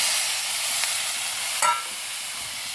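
Chopped tomatoes sizzle steadily in a hot pan for a dried prawn roast. A close frying hiss continues throughout, with brief scrapes of a spoon stirring.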